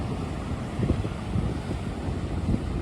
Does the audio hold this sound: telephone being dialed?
no